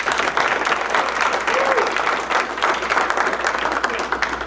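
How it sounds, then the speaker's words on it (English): An audience at an award ceremony gives sustained applause for an honoree. The clapping is dense and moderately loud, with a faint murmur of voices underneath. "how about a round of applause again for Helen?"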